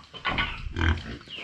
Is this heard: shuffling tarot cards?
no